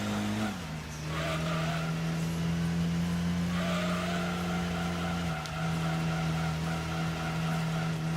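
A Corvette race car in Gran Turismo 2 roars along at a steady high engine pitch, with a gear change near the start, a brief tire squeal and a slight engine dip later, loud and continuous.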